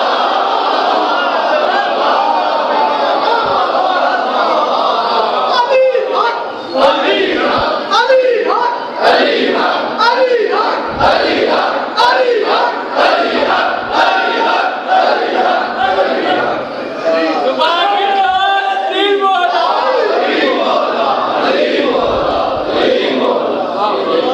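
A large crowd at a Muharram majlis chanting religious slogans in loud, rhythmic unison, with repeated swelling shouts filling the space at close range.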